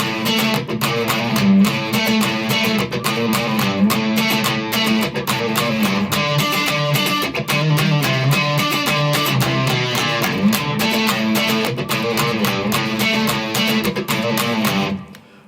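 Electric guitar playing the verse riff of a song, a loud, dense, steady run of repeated picked notes lasting throughout before stopping abruptly at the end.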